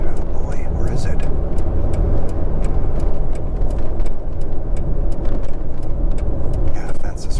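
A truck rolls past on a remote desert road, a steady broadband rumble and tire roar holding loud and close throughout, with faint wind buffeting.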